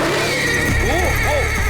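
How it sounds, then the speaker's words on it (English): A horse whinnies from a TV drama, a loud rising and falling neigh with a second shorter call, heard over a steady background hum. "Gonna scare the hell out that horse, ain't it?"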